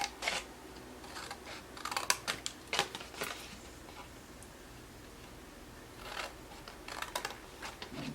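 Scissors cut into paper along the tabs and score marks of a fold-over box, giving a few scattered, close, crisp snips and clicks with quiet gaps between them, and no voice.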